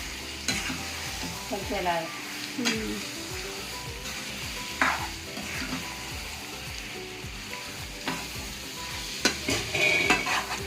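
Food fries noisily in a pan while a spoon stirs and scrapes through it, with clinks of the utensil against the metal, close by; someone speaks briefly over the sizzle.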